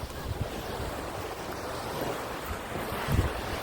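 Sea surf on the Black Sea shore at Odesa, a continuous rumbling wash of waves mixed with wind buffeting the microphone, with a louder surge near the end.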